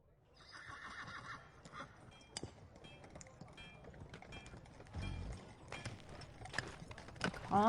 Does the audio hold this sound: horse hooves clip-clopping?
yes